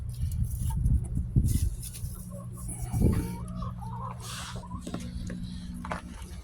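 Chickens clucking nearby in a steady, busy chatter, with occasional louder squawks and a low background rumble throughout.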